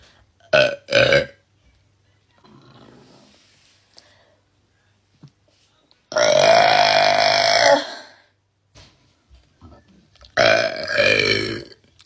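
A woman gives loud, close burps: two quick short ones, then two long, drawn-out belches with quiet gaps between.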